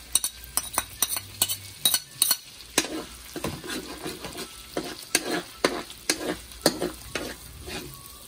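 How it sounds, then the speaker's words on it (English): Minced garlic frying in butter for garlic butter shrimp, a soft steady sizzle under repeated quick scrapes and taps of a utensil against the pan, close and rhythmic. "Then next, we're gonna put the minced garlic."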